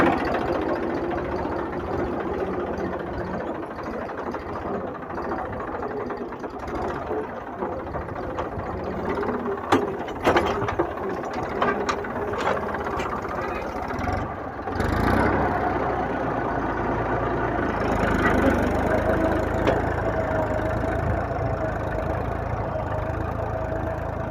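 A tractor diesel engine runs steadily at a low, heavy rumble while pulling a cultivator in a field, with a deeper, louder strain setting in partway through as it works under load.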